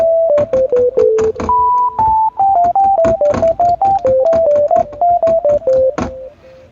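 Smooth synthesizer sine wave tone played as a melody of short pure notes, stepping up and down in a quick, slightly uneven rhythm, clear and close.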